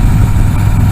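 A Harley-Davidson Softail Slim motorcycle engine runs with a loud, steady low-pitched rumble and vibration, heard close and alone without any voices.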